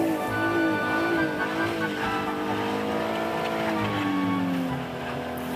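An Acura car with traction control switched fully off spins its wheels on pure ice, its engine droning and revving up and down in long, steady pitch sweeps, close and continuous throughout.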